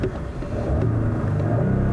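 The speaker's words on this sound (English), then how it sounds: "The engine, as you can hear," The base engine of a 2020 Porsche Cayenne revs with a deep, steady rumble that swells slightly partway through, heard close and alone.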